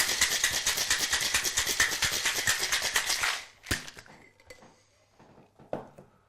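Vigorous shaking of a cocktail shaker packed with ice for a strawberry mocktail, a fast steady rattle for about three seconds, then a few isolated knocks and clinks.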